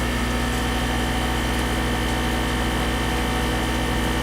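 Weston Pro-2100 vacuum sealer pumping air from a bag of quail meat, a loud steady close motor hum with constant vibration and no pauses.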